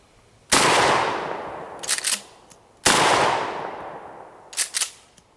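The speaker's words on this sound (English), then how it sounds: "Now we're gonna fire a couple of rounds of regular Remington double-aught buckshot" A 12 gauge shotgun fires two rounds of Remington 00 buckshot, 9-pellet loads. Each is a loud, sharp blast with a long reverberant tail, followed about a second later by a short rattling clatter.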